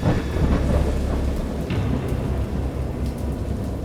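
Video game thunderstorm: heavy rain pours down while deep, rolling thunder rumbles continuously underneath, a dense and loud storm with no voices.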